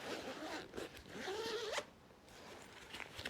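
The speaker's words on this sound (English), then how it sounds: "So this zips up or open right up to the end." A zipper pulled open along the main compartment of a Nokta Makro backpack, one long continuous rasping run that rises and ends abruptly, close and clear with no talking.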